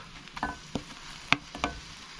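Onion, ginger and garlic pastes fry for a spicy beef curry, with a steady low sizzle and a few sharp stirring clinks and scrapes spaced through the short stretch, no voices.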